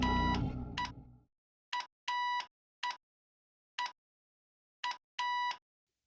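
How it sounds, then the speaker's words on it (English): Morse code beeps from a radio in the control room in the video game Echo Night, a clear high tone pulsing in short and long bursts with silent gaps, after a brief burst of low rumbling noise. "it's also Morse code beeping out C-R-E-A"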